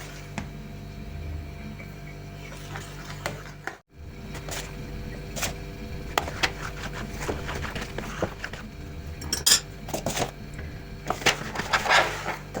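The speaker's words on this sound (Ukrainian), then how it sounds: "Спочатку вимішуємо ложкою або виделкою, потім будемо вимішувати рука." Scraping and soft knocking of a spoon working thick kefir cheese-stick dough in a bowl, irregular strokes repeating close by with no talking.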